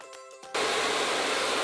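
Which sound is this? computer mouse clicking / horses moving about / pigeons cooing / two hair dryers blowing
two hair dryers blowing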